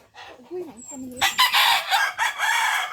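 A rooster crows loudly nearby, a long strained call, with some murmuring voices and hens clucking faintly before it.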